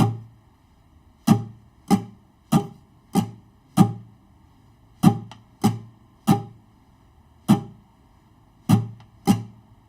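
Guitar strummed in a steady written rhythm, sharp percussive strokes alone, roughly a dozen chords spaced evenly with brief pauses between groups.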